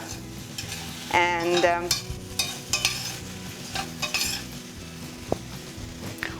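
A spoon stirs okra bhindi masala with tomatoes in a pan, scraping and clinking against the metal over a soft sizzle, in uneven bursts with a sharp tap near the end and a brief word spoken.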